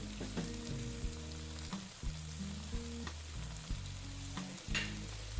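Long beans frying with kasuri methi in a pan, a steady sizzle over a low droning hum, with periodic gentle taps and scrapes of stirring, close and without speech.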